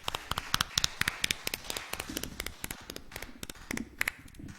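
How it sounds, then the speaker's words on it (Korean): Church congregation clapping in praise during a Sunday worship service, a dense run of sharp hand claps with irregular rhythm, close and crisp, with no voices over it. "우리 박수로 우리 하나님께 영광을 올려드립니다"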